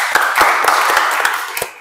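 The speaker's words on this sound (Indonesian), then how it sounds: "Mari kita berikan tepuk tangan untuk kelompok 3." A classroom group claps for a presenting group of students: a short, brisk burst of close hand claps, fairly loud and uneven, with no talking.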